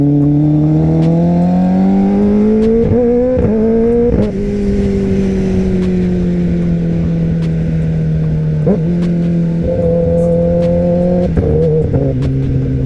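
A Kawasaki ZX-10R 1000cc motorcycle engine revs up in a loud, close, steady rising whine, broken by several sharp gear shifts that drop the pitch before it climbs again, with no talk over it.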